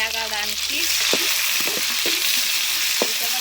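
Onions and tomatoes frying in a pan for a village-style egg curry: a steady broadband sizzle with a few sharp scraping stirs against the pan, close and fairly loud, with no talking.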